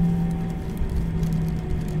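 Inside a passenger airplane cabin while seated near an engine before takeoff, a steady low hum with faint tonal whine and a continuous rumbling vibration, even and unbroken throughout.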